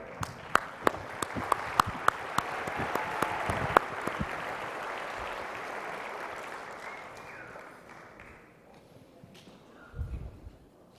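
Banquet audience applause at the 2017 Governor's NCWorks Awards of Distinction, a broad crowd clapping with several sharp individual claps standing out early, then slowly fading away toward quiet with a brief low bump near the end.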